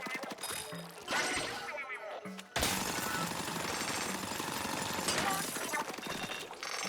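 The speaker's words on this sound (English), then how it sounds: "Stand next to crystal, press X for the drill." Drill boring into a crystal in the video game Splatoon Raiders, a loud continuous rattling, grinding burst that starts abruptly and runs steadily for several seconds after a brief buildup of game effects.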